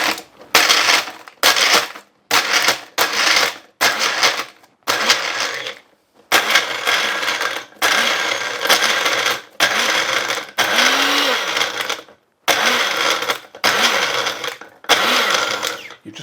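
Ambiano high speed blender from Aldi crushing ice cubes in repeated loud pulses, each burst a harsh grinding whir broken by short silences, with a rattling clatter as chunks bounce around the blades.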